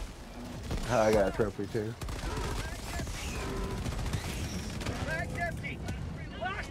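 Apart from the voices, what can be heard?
big gun firing in Helldivers 2 video game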